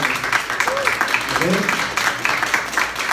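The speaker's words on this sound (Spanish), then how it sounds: "Dale un aplauso al Señor" A church congregation claps in praise during a sermon, steady mid-level applause running throughout with a preacher's voice and shouts over it.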